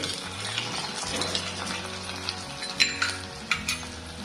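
Chopped onion, tomato, carrot and coriander being sautéed in a kadhai for rava upma, with a steady close sizzle and spatula stirring, plus a few sharp metallic scrapes near the end.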